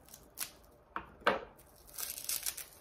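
Metal scissors snip through plastic bubble wrap wrapped around a selenite wand, giving a few sharp, close cuts and crinkles spaced apart, followed by rustling of the plastic.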